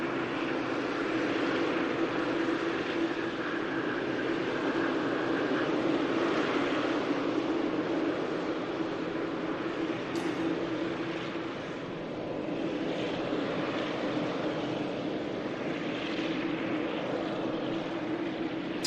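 A large airliner taxis at Manchester Airport, its steady engine roar and whine filling the air continuously at moderate distance, with no voices over it.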